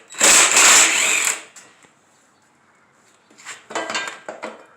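A bolt comes off a Honda Accord headlight bracket with two bursts of ratcheting, whirring tool noise, one loud and close lasting about a second, then a quieter second round after a pause.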